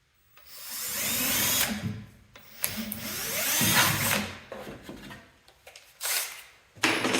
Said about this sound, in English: let me get the drill and we'll get going with that